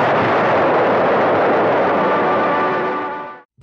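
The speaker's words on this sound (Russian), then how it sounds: "Взрыв был чудовищной силой." A steamship explodes in port with huge force: a single loud, broad roar that holds for about three seconds, then quickly dies to silence.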